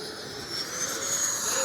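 An FMS F-86 80mm RC model jet flies at full throttle, its ducted fan giving a steady loud whine with high tonal streaks that rise slightly as it passes. No one speaks.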